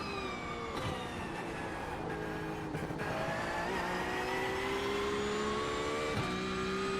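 A race car engine in a racing video game at the Nürburgring 24 Hours: a continuous, strained, whining engine note that climbs and drops in pitch through the gears, heard alone without talk.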